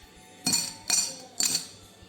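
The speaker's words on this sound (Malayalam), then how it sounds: "അടുത്തായി കുറച്ച് ഐസ് ക്യൂബ്സ്" Three separate ice cubes clink into a glass, one after another at an even pace, for a homemade mojito. Each strike is close and bright, with a short ring after it and quiet between.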